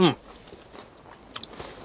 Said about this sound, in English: Refreshing beyond, and crunchy. Listen.